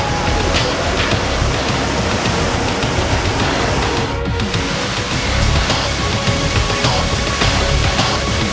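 Niagara Falls pours with a dense, loud, unbroken roar of rushing water, heard up close near the Horseshoe for over eight seconds with no talk.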